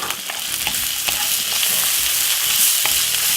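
Saltfish, onions, spring onion and callaloo sizzle loudly in a hot pan, a dense continuous fry punctuated by sharp scraping stirs, close and unbroken by talk.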